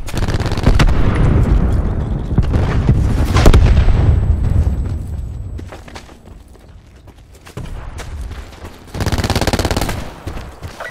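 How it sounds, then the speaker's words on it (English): Cluster grenade thrown and detonating in a video game, several heavy booms mixed with rapid machine-gun bursts, loud and close, easing into a quieter stretch before another burst of fire. "Throwing cluster grenade."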